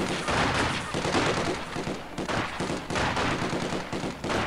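Rapid squad gunfire from Company of Heroes 2 crackles in dense, overlapping bursts throughout, loud and continuous with sharp repeated shots and no clear pauses.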